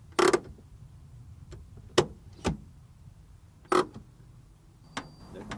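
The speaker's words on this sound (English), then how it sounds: "this is handbrake ratchet number 1" A car handbrake ratchet pulled several times, each pull giving a short, close mechanical clicking rasp, with gaps between pulls in an otherwise quiet setting.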